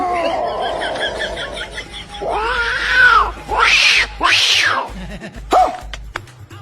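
Two cats fighting after one intrudes into the other's home, giving loud, close, drawn-out yowls and caterwauling meows in several rising and falling bursts, separated by short pauses with scratchy background noise.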